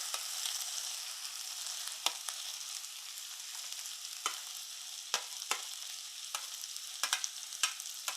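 Small shallots frying with crushed ginger, garlic and green chilli for a chicken gravy give a steady close sizzle, broken by several sharp clicks of a spoon stirring against the pan.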